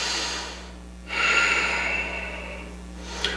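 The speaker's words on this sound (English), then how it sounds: "Remember to breathe." A single deep breath during a yoga flow: a soft airy inhale swelling and then easing off over a few seconds, close and fairly quiet against a low steady hum.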